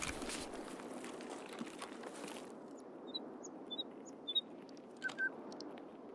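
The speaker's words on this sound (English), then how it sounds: "Yo, that bird be loud." A bird in Escape from Tarkov gives a few short, sharp chirps that grow louder toward the end, heard over quiet outdoor ambience after a brief noisy stretch at the start.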